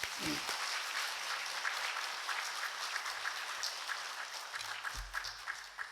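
Soft, steady clapping from a church congregation during a Korean Sunday service, distant and faint, continuing evenly with a few low thumps near the end.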